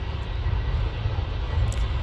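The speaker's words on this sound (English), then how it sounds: "Here comes the Jet 2, silver and red." A red and silver Jet2 airliner rolls past at Manchester Airport with a steady, heavy engine roar that holds loud and near throughout.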